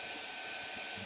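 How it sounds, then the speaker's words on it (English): A heat tool blows a steady, loud hiss of air while drying wet, shaped paper butterflies in a craft project, a constant close roar with no breaks. "getting the butterflies a bit wet and shaping them and then drying them with the heat tool"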